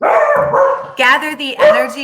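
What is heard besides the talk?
dog barking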